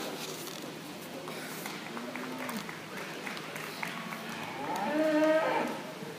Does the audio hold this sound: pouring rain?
no